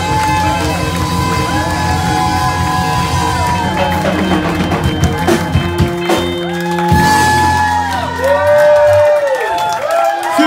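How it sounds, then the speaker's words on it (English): A loud, lively pub crowd cheers and whoops continuously, with rising shouts and excited voices filling the whole stretch. "Give him a big round of applause."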